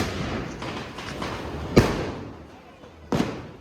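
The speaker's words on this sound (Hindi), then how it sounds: "अब होने वाला बूम बम। हट जाइयो" Diwali firecrackers going off outdoors, two sharp booming bangs about a second and a half apart over a murmuring background.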